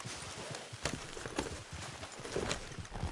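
A horse gallops in Red Dead Redemption 2, its hooves beating a fast, steady clip-clop that stays close and continuous over a constant background rumble.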